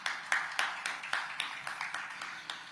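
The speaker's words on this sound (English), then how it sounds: "let's give Suchitra a very warm round of applause." An audience at a women's summit in Tamil Nadu applauds. Steady, fairly faint clapping carries on at an even pace throughout, with no talking.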